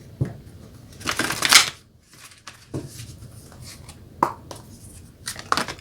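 Tarot cards shuffled by hand in quick bursts of crisp riffling and soft slaps, several separate shuffles with brief pauses between them, close and fairly loud with no talking.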